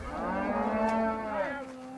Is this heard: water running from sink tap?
no